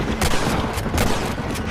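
Gunfire crackles through a Red Dead Redemption shootout as a rapid, irregular volley of shots, several distinct cracks in quick succession over a constant noisy backdrop, with no talking.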